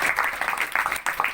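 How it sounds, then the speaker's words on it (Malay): Applause from a small group for Abang Izham at a gathering, a moderate rustling patter of clapping with uneven bursts throughout the short stretch. "tepukan untuk Abang Izham dulu"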